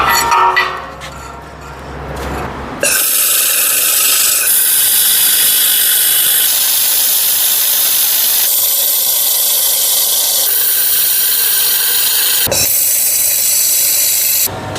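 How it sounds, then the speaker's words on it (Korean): Welding a lifting hook onto a tractor-mounted hydraulic log splitter: a steady, loud crackling hiss of the arc runs continuously for long stretches, broken by a few brief pauses and quieter mechanical clinks at the start. "그래서 지금 용접을 한번 해보겠습니다."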